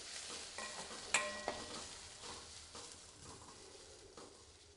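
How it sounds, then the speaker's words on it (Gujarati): Crushed green pigeon pea (tuvar) beans being sautéed in a kadhai over a very low gas flame for Kathiyawadi tuver kadhi, a steady soft sizzle with a couple of sharp metallic spoon clinks against the pan early on, no talking. "ગેસની ફ્લેમ એકદમ ધીમી રાખી અને તુવેરના દાણાને સારી રીતે સાંતળી લેશું"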